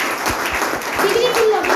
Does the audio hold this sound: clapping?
yes